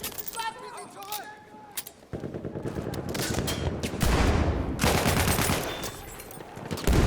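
Gunfire in the video game Battlefield 6, with dense bursts of automatic shots and heavier booms building through the clip, loud and continuous against game music and ambience.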